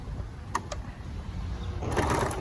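A sewing machine edge-stitches the casing of a fabric face covering, a short burst of close mechanical whirring after a couple of clicks.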